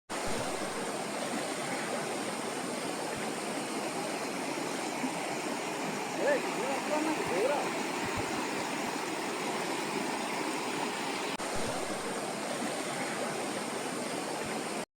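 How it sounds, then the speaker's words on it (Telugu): A small waterfall and stream at Deverapelli (Sariya) Waterfalls, flowing water rushing steadily in a broad, unbroken wash that holds at a constant level throughout, with no voices over it. "మొత్తానికి చిన్నపాటి వాటర్ ఫాల్స్ అయితే క్రాస్ చేస్తాం"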